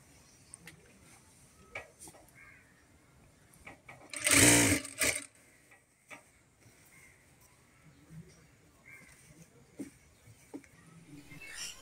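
A sewing machine stitching a dress gives one loud, close burst of rapid whirring lasting under a second, surrounded by quiet room noise, small clicks and faint indistinct voices.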